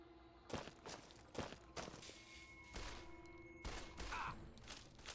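Pistol fire in the video game Fallout: Tale of Two Wastelands, a handful of sharp reports spaced about a second apart with footstep-like thumps and ambient game noise between them.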